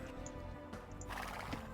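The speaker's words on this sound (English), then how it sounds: "a horse being used to scout" Scout horse neighing in the Age of Empires strategy game, a short whinny over busy game background sounds, with no talk.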